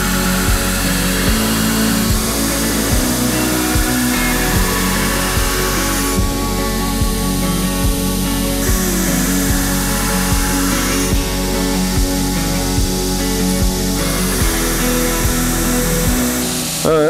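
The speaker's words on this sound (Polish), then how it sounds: "teraz sobie już szlifując z ręki trochę podrównam to przed włożeniem do pieca" Hand grinding of a steel knife blade before hardening in a kiln, a loud continuous abrasive grinding whine with regular rhythmic pulses and shifting pitch as the blade is worked.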